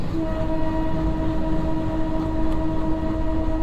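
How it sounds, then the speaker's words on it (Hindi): A local train locomotive accelerating in Train Simulator 22, heard as a steady, heavy low rumble with a droning engine hum that continues throughout with no talking. "यार क्या है ये लोकल ट्रेन जो है ना इसमें लोकोमोटिव उतने पावरफुल नहीं होते"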